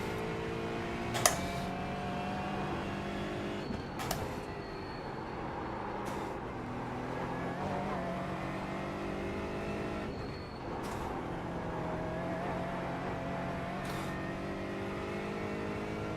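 Aston Martin GT4 race car in iRacing drifting around the Nürburgring Nordschleife, a steady engine drone with shifting pitch and occasional sharp gear-change spikes, no talking over it.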